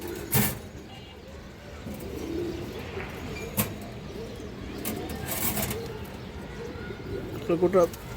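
A lively domestic high-flyer pigeon cooing in soft repeated bursts, close by, beneath someone talking and some background noise.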